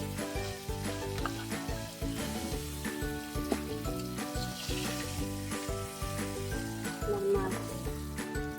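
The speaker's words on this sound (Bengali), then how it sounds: "মাছ ভাজা শেষ" Fish fries in a pan with a steady, close sizzle that crackles continuously, broken by occasional stirring clicks.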